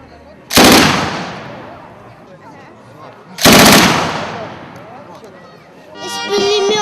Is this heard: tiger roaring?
no